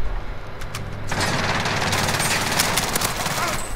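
Burst of automatic gunfire in the video game Call of Duty Warzone, a dense rattling volley starting after a brief pause and running continuously to the end, with game engine noise beneath.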